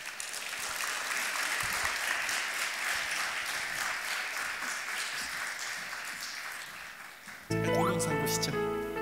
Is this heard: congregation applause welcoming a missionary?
yes